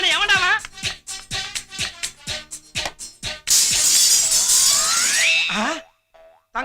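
A glass window breaking in a Tamil romantic film scene: a loud, bright crash of shattering glass lasting about two seconds, preceded by a run of bouncy boing-like sound effects and voices.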